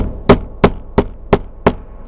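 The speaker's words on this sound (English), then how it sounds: "then tap it with a hammer" Five evenly spaced, sharp hammer taps drive a crimp connector onto a Flex Watt heat mat, each one a loud, close knock with a short ring, and there is no talking.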